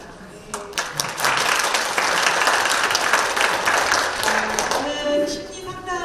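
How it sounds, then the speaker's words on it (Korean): An audience applauds at a senior-care lecture, a dense wash of clapping that swells within the first second, holds steady, then thins toward the end. "박수 하시겠습니다"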